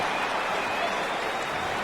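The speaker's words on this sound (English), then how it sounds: "The crowd's not doing that O-line any favors." A steady wall of stadium crowd roar in an NFL football video game, with the Dolphins and Broncos playing at a home field; the noise is a constant, hissing, applause-like wash with no break.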